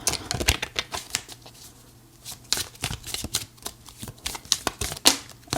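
Tarot cards being shuffled and drawn from a deck, a run of crisp riffling flicks and soft snaps close up, with a steady faint hum underneath and no talking.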